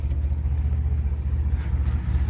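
An off-road van sits stuck in loose dirt with both tires spinning: a steady low engine rumble with a faint pulsing churn, close and continuous throughout, with no voices.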